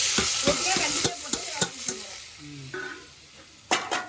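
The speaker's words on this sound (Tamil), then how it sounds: "இப்போ நல்லா கருவேப்பிலை போட்டு இந்த வெங்காயம் தக்காளியெல்லாம் போட்டுக்கலாம். இப்போ நல்லா இப்போ வதக்கிக்கிறேன்." Onions and tomatoes sautéing with curry leaves in a pan give a steady close sizzle, broken by repeated sharp clinks and scrapes of a spoon stirring against the metal.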